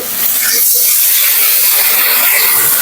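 Water added to potatoes frying with turmeric and chili powder in a pan, giving a loud, close, continuous steamy hiss that holds steady for the whole stretch.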